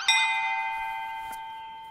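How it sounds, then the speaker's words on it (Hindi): One clear bell strike rings out with a bright, sustained tone that slowly fades, followed by a faint second tap, alone and without speech. "जाए ना अपन घंटी बजाई।"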